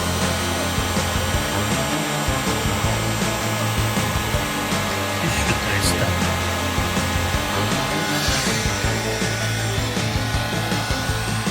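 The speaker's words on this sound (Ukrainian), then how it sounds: "Пробуємо включити другу потужність фена." Hair dryer running at its second, higher power setting while fed from a 12-volt JIANSHUN inverter, a steady dense whooshing roar that stays loud and constant throughout with no talk.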